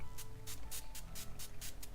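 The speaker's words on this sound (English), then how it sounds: "If you have plants, you should spray them." Spray bottle misting water onto houseplants, a quick series of about seven sharp hissing squirts in a steady rhythm, close and alone.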